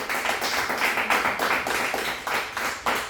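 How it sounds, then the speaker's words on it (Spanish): A church congregation claps together in quick, even rhythm during a worship service, a dense, fairly close patter of hands without talk. "Dale palmas a Jesús."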